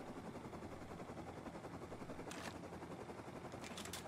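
Faint video game gunfire rattles under a constant low drone, with a couple of sharper bursts standing out near the end.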